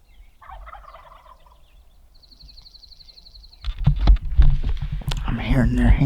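Wild Merriam's turkeys gobble and call in a quiet outdoor setting, with a thin high trill in the middle, then louder rustling and movement close by.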